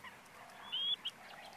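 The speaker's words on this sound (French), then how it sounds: "plusieurs espèces différentes finissent par nicher ensemble au sein d'une même colonie" A bird in a mixed nesting colony on a Greek lake gives a faint, brief honking call, then a shorter second note, over soft background ambience.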